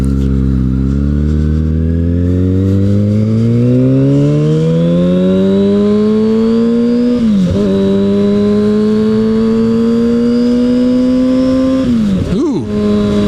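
A 2009 Kawasaki Ninja ZX-6R sport bike engine revs up hard and loud, pitch climbing steadily through the gears with two brief dips at shifts, sustained high-rpm whine close by with no talking.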